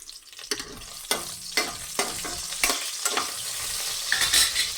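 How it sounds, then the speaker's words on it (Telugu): Green chillies sizzle in hot oil in a kadai while being stirred, with repeated sharp clanks and scrapes of a spoon against the pan over a steady frying hiss, close and clear, no talking. "పచ్చిమిర్చి వేసి ఫ్రై చేసుకోవాలి ఫస్ట్"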